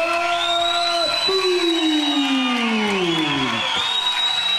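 A boxing crowd in Albertslund cheers and applauds as a fighter enters the ring, a loud, steady roar running the whole time beneath a long, drawn-out announcer's call.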